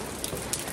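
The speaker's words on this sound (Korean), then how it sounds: "근데 내가 보기엔 비가 와서 더 피치야. 비가 오니까 더 분위기 있어." Rain falls steadily on a Taipei street, a brief close hiss of drops hitting the surface with no voices.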